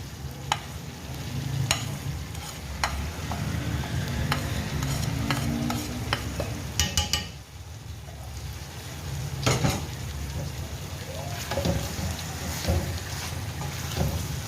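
Chicken karahi sizzles in oil in a pan as salt and turmeric go in, with a steady frying hiss under repeated scraping and clinking of a spoon stirring against the metal pot.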